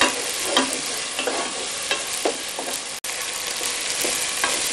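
Tomato browns and fries in a pan for a spinach stew, a loud continuous sizzle with occasional soft stirring scrapes and clicks, close by and without talk.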